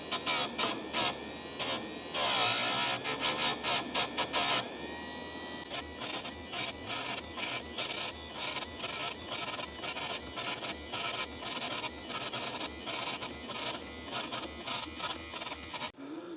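Electric grinder sharpening a dirty chainsaw chain at a 30 degree angle: a near buzzing whine with rapid, regular on-off grinding bursts repeating through the clip, starting with a longer continuous stretch, no talk.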